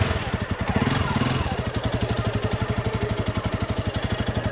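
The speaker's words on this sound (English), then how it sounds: "let's ride out of this place." A Honda CRF300 Rally motorcycle pulling away on a trail in Thailand, its single-cylinder engine thumping in a steady, rapid beat close by, with a louder surge at the start.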